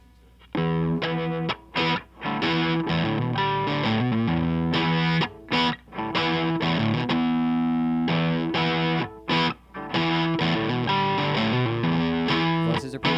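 A harmonica played through an Orange amp with heavy distortion, sounding loud and chunky in short bursts of sustained chords and phrases split by brief breaks, with no talk.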